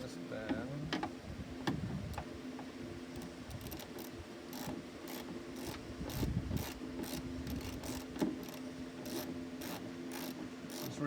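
Bolts being tightened down on a trunk latch of a wrecked Pontiac, steady rapid ratcheting clicks running throughout with a few heavier knocks and clanks, close and fairly loud.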